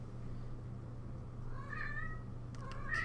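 A cat meows in two short, rising calls near the end, fairly close but soft, over a steady low electrical hum.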